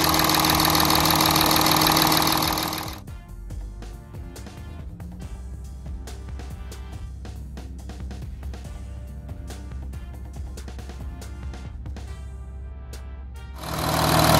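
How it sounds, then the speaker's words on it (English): Audi A8 D4 3.0 TDI diesel engine from 2014 running steadily at idle, a close low rumble with faint ticking, bracketed by loud broadband bursts at the start and end. "Okay, I rev a bit"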